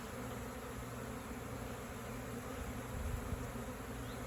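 A honeybee swarm being settled into hive frames gives off a dense, continuous buzzing hum, steady and faint, with no voices.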